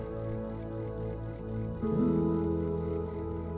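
Crickets chirp at night at an eco resort in Sreemangal, Bangladesh, in rhythmic, evenly spaced pulses, about three per second, over a low steady hum.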